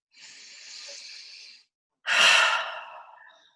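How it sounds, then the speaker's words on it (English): Two deep breaths, close and clear: a long steady inhale lasting over a second, a short pause, then a stronger, louder exhale that fades out gradually. "Take a deep breath into that."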